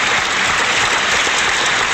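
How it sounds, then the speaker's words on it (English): A single loud hand clap in a podcast recording, a sharp broadband burst that fills the short moment with no voices heard. "See, that's a loud clap."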